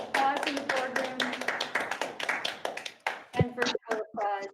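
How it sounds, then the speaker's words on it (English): Light applause in a boardroom during a board meeting, a handful of people clapping in a loose, uneven patter that fades out toward the end. "Applause in the boardroom."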